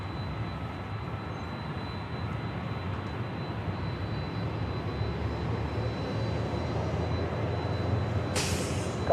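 Hawaiian Airlines Airbus A321neo departing Los Angeles for Kona, a low, fairly faint jet engine rumble held steady with a brief sharp burst at the end.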